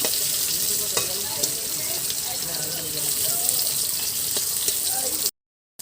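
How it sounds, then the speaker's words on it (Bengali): Slices of ash gourd fry in hot oil in a pan, giving a steady, close sizzle with small pops and crackles for about five seconds before it cuts off. No one talks. "এইভাবে ভেজে নেব চাল কুমড়োগুলো"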